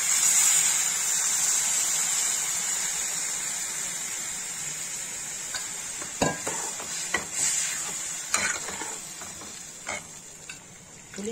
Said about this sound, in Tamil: அந்த புளியை கரைச்சி இப்ப இதுல ஊத்துறேன்.